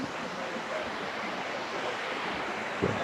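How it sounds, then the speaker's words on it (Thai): Water flowing at Bua Tong waterfall in Chiang Mai, a steady, broad rushing hiss heard from a distance, constant throughout with no speech. "ได้ยินเสียงน้ำอยู่ แต่เรามองไม่เห็น"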